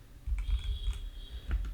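Quiet, close keystrokes on a computer keyboard, a few scattered clicks and taps at an uneven rhythm in an otherwise hushed room.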